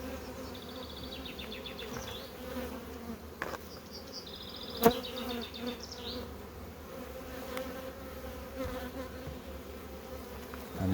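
Bees buzz around an open hive housing a very large captured swarm, a faint, steady low hum with a few brief higher chirps above it.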